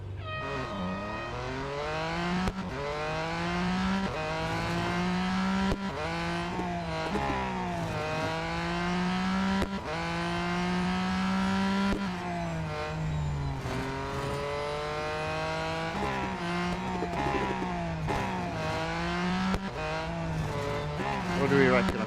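Car racing in the video game Real Racing 3 during an autocross event at Melbourne, with an engine revving up and down through repeated gear shifts, tire squeals and a steady rising-and-falling whine throughout.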